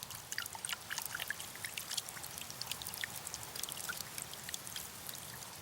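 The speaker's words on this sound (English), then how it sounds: "The seam down the pitcher hides a small hole that drains water into a flat channel." Water trickles and drips as it drains away inside a rainforest pitcher plant, a soft, continuous watery patter with scattered faint droplets and no voices.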